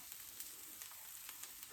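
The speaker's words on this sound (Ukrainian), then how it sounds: "Будемо смажити, пробувати." An unusual casserole frying in an oiled pan, giving a soft, steady sizzle with scattered faint crackles, quiet and close, with no voices.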